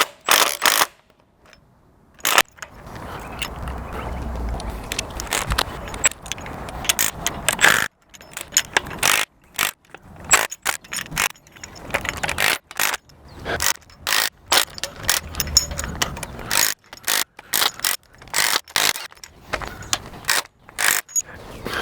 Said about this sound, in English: We're just going to back off the rockers a bit so we can get the push rods out.